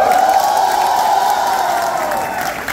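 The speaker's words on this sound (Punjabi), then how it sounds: "ਮਨਪ੍ਰੀਤ ਭਾਈ ਦੇ ਨਾਮ ਤੇ ਜ਼ੋਰਦਾਰ ਹੂਟਿੰਗ ਤੇ ਤਾਲੀਆਂ ਹੋਣੀ ਚਾਹੀਦੀ ਹੈ" Audience at a comedy show cheering, hooting and clapping in a steady loud roar that slowly fades near the end, with a shrill whoop-like tone riding above the applause.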